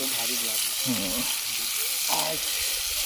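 Chicken pieces fry on a clay roof tile set over an open wood fire in a village outdoor setting, giving a steady broad sizzle and hiss, with people talking intermittently over it.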